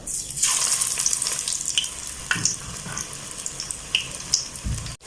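Pakora batter spooned into hot oil for crunchy fritters sizzles and bubbles in a continuous wash, broken by sharp pops and spatters. It sounds close and fairly loud, with no talking.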